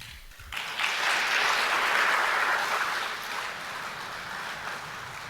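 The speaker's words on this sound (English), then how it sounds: "I'm happy you clapped." Applause from an audience at a speech by Ghana's President Mahama to chief executives of state enterprises at the Kempinski hotel, a steady broadband wash of clapping that swells after a brief pause and holds, easing slightly toward the end.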